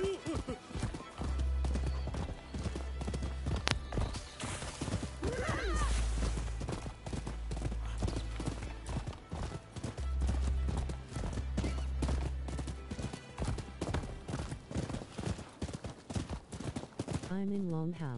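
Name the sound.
donkey hooves clip-clopping in video game Rise of the Ronin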